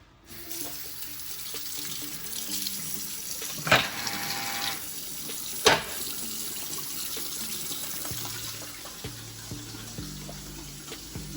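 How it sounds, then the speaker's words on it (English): A kitchen tap runs steadily into the sink during handwashing, a continuous close splash with two brief louder bursts partway through. "Let me wash my hands."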